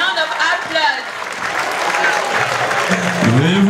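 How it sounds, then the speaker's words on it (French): A crowd claps and cheers loudly at a Cameroon national day celebration at an embassy residence in Dakar, with voices mixed into the ovation throughout. "Tonnerre d'applaudissements"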